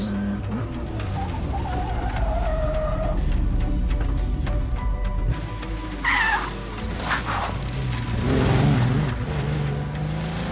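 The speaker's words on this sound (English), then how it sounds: "It's a spectacular start for the Tour Auto, with cars sliding, engines growling and tires screeching on the asphalt." Classic racing cars at the start of the Tour Auto sliding on asphalt, engines growling loudly and tires squealing in long screeches amid continuous engine roar.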